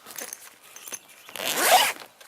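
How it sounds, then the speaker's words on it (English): Zipper pulled shut along the front door of a Eureka 4-6 person tent, a quiet scratchy run that swells into a louder rasping pull before stopping. "I'm going to close the zipper to the front door in just a second."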